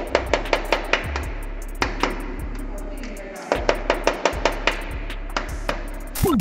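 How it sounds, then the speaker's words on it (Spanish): A woodpecker hammers at wood in rapid, evenly spaced sharp taps. The taps come in runs separated by brief pauses over a low steady background hum. "el pájaro carpintero puede perforar la madera en busca de alimento sin sufrir daño alguno"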